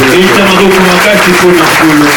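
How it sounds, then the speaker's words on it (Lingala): A church congregation applauds loudly and steadily, a dense wash of clapping running the whole time, with a voice or singing tones woven through it. "Acclamez très fort."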